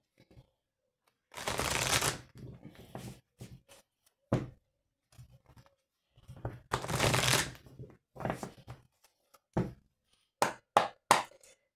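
Oracle cards are shuffled and cut by hand in two long riffling bursts, each followed by scattered soft taps and slaps of the deck, all close and fairly quiet with no talking.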